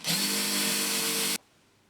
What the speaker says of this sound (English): we're just going to drill a pilot hole using a small drill